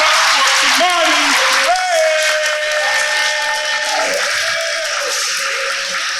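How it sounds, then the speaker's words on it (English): Audience at an adult poetry slam in New Haven, Connecticut, clapping for a poet, dense steady applause lasting several seconds with a voice calling out over it. "Y'all start clapping for Kimani."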